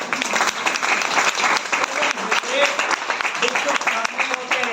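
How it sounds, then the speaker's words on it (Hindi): At a direct-selling seminar, the audience gives a burst of close, energetic clapping that rises and dips over several seconds, with voices mixed in. "ताली बजा सकते हैं"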